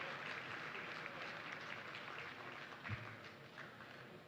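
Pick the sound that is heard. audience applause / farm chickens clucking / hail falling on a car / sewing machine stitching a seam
audience applause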